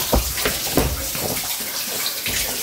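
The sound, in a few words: water splashing as hands are dipped and washed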